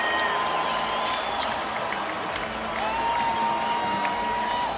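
A basketball arena crowd rises and cheers late in an NBA game, a loud, sustained roar of voices with whoops and whistles riding on top, swelling and holding steady throughout.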